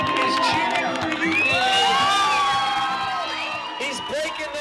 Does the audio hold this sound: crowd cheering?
yes